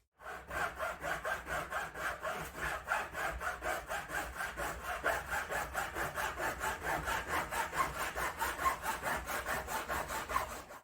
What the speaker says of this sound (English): the reason you just saw me cutting up that thing with a hacksaw